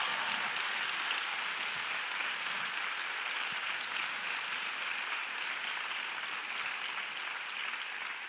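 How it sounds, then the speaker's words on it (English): Applause from the audience at a college student awards ceremony, a distant, steady hiss of many people clapping that holds evenly throughout, with no speech over it. "give yourselves a round of applause"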